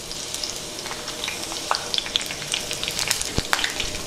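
Slit green chillies fry in hot oil with a steady, bright sizzle and crackle, close and loud, with sharp spits popping through the hiss.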